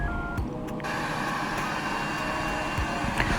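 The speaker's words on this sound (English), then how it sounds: "bring out the trusty old blow dryer. Let it do its thing." A mini hair blow dryer runs on its hottest setting, giving a steady, close, loud whir and rush of air that holds even throughout, with a few faint clicks and no talking.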